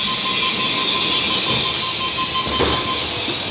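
A Sydney commuter train runs steadily with a loud, continuous rumble and hiss heard from inside the carriage, a thin whine holding beneath it, and no talking.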